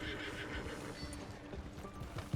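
A horse in the Red Dead Redemption 2 video game whinnies while its hooves clop underneath, with a sharp thump at the very end.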